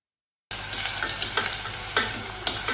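Onions and tomatoes sauté in a pan for a poppy seed gravy, with a steady close sizzle of frying and a few sharp stirring scrapes of a spoon against the pan. Silent for the first half second.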